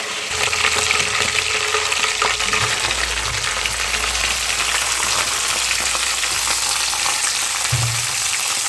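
Ground mint paste hits hot oil in a pan for a mint thokku, giving a loud, steady sizzle and crackle that runs without a break, with a brief stir or scrape near the end and no voices.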